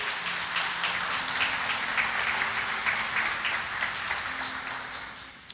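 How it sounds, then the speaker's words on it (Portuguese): Church congregation applauding during a Portuguese-language service, a steady dense wash of clapping that continues throughout at a moderate distance before tapering off at the end. "Vamos aplaudir poderosamente a palavra do Senhor."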